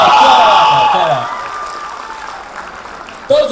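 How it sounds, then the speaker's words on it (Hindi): Loud audience applause and cheering in a university hall rise at the start and fade away, with a speaker's voice coming in near the end. "जोरदार तालियां हो जाए।"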